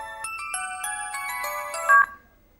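A phone ringtone plays a short, bright melodic tune of repeated electronic notes, close and clear, then cuts off abruptly.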